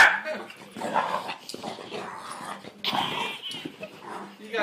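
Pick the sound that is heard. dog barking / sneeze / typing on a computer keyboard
dog barking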